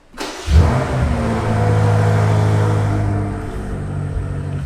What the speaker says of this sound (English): Muffler sound on this one is crazy too.